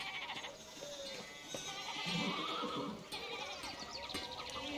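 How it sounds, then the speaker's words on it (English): Sheep bleat in the Pentiment video game, giving several faint wavering calls over a quiet, busy pastoral background, with no talk. "the sheeps are blocking the way"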